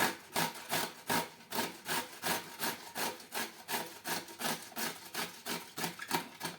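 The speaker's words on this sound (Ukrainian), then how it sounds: "От штуки три огірочки беремо і тримо на таку велику терточку." Pickled cucumbers rubbed back and forth on a large grater make a steady, rhythmic rasping scrape, about two strokes per second, close and fairly quiet with no talking.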